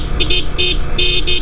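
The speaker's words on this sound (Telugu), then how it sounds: "ఈ బైక్ హారన్ వచ్చేసి ఈ విధంగా ఉంటుంది" Horn of a TVS Apache RTR 160 4V motorcycle, four short loud honks in quick uneven bursts, heard close over a low idling engine.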